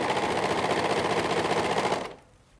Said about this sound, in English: So I'm going to start by just overlocking the elastic in place.